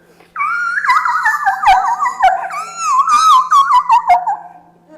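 A human voice mimics a dog's howl, one long wavering cry that rises and falls in pitch for several seconds, loud and close, sliding down toward the end.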